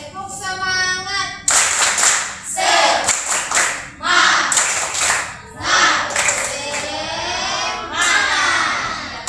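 A school class does a spirit clap together in a quick rhythmic pattern, loud and close, with short pauses between sets of claps and some voices mixed in.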